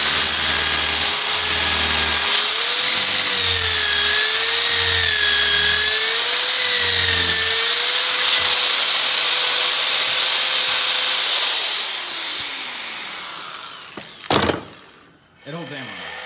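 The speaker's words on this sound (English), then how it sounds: "But for starters, gonna drill this out." A power drill whirs steadily for several seconds, its motor pitch wavering, then winds down and stops, followed by a couple of brief clatters.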